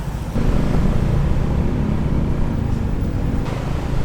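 A bike taxi carries a rider through Bangkok traffic, its small engine a steady, close drone over a continuous road rumble that holds for about four seconds with no voices.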